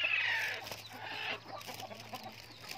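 Fighting chickens on a gamecock breeding farm cluck nearby, with a louder burst of clucking at the start followed by softer, scattered clucks and faint rustling.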